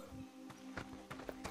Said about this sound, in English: I'm a fox riding on a horse.